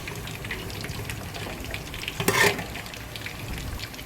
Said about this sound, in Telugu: బాగా సిమ్లో పెట్టుకొని వేయించుకుంటే చాలా టేస్టీగా